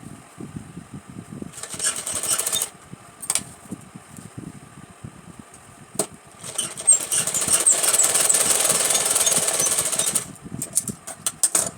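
A sewing machine stitching a Rajputi kanchali blouse, running in a few bursts of steady mechanical whirring and clatter, close and moderately loud, separated by quiet pauses with no talking.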